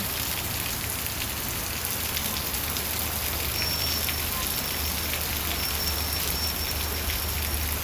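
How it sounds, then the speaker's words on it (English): Steady heavy rain from a tropical storm in Jamaica hissing and pattering continuously, with a low rumble underneath and no pauses throughout. "the rain is pouring"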